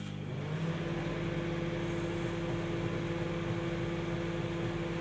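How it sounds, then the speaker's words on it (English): A microwave oven, fitted with a new LED bulb, hums steadily with a constant low drone and faint background noise, running without interruption. "The clock's ready, so we're gonna start the microwave."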